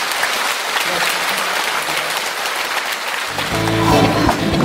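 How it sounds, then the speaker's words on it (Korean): Dense, loud applause from a lecture-show audience fills the hall continuously, with a brief tonal music sting rising near the end under the clapping. "다시 한번 큰 박수 부탁드립니다"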